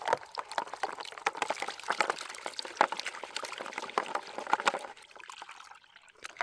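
Water and gravel shaken in a gold pan during panning at a creek: sloshing, trickling water with small splashes and soft gravel swirls, close and continuous, quieting near the end.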